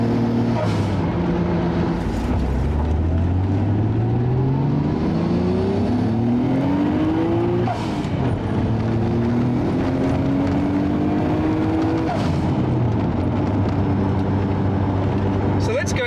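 A Nissan Stagea Autech 260RS wagon driven hard, its engine revving up through the gears in repeated rising sweeps with shift breaks between, steady and close throughout.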